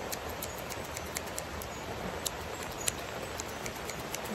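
Rain falls outdoors in a steady, dense hiss with faint scattered drips and patters throughout, continuous and fairly quiet with no voices.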